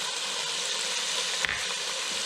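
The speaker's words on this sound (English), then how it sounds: "I'm going to go ahead and add the onions and saute them" Onions, garlic and Hungarian paprika sauté with seared pork in a hot pan for puchero, giving a steady, dense sizzle and a single soft clink of stirring partway through, with no voices.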